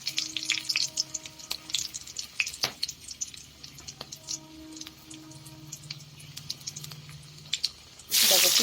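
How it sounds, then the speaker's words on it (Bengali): Dried red chilies, panch phoron and a green chili crackle and sizzle in hot oil for tempering, with sparse pops and spits over a quiet bed, then a louder burst of frying near the end. "প্রথমে তো ফোড়ন দিব, ফোড়ন দিলাম দেখো শুকনো লঙ্কা 5 ফোড়ন আর একটা কাঁচা লঙ্কা দিলাম"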